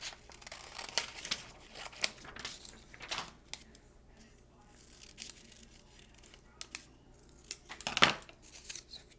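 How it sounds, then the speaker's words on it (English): Scissors snip through folded paper in a craft activity, a series of close crisp cuts with quiet rustling between them. "And I'm gonna cut those out."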